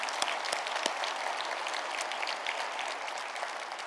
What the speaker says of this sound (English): Please, everybody, give them a round of applause.